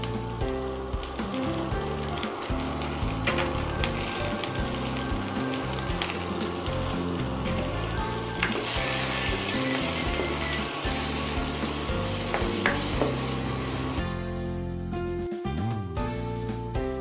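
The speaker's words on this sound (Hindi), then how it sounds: "दे दूंगी बारीकी से कटा हुआ ऑनियन और दे दूंगी 4 से 5 पीस लहसुन और इसको 1 मिनट तक फ्राई कर लेंगे।" Finely chopped onion and four or five garlic pieces frying in a pan for a South Indian groundnut chutney, a steady close sizzle with occasional stirring scrapes running throughout without talk.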